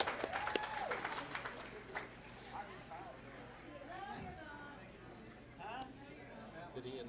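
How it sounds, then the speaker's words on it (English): An audience applauds the coaches at a high school singles bowling state finals in Indiana, a steady wash of clapping mixed with crowd chatter and voices talking over it, with a low hum of the bowling venue underneath. "a big round of applause for all of our coaches"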